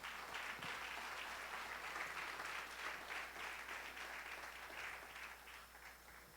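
A church congregation applauds in steady, sustained clapping that stays fairly even and distant-sounding for several seconds without a break.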